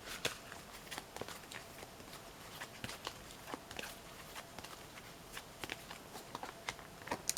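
Tarot cards shuffled and drawn for a reading, giving a steady run of soft, quiet papery flicks and taps that come in irregular bursts, close by, with no talking.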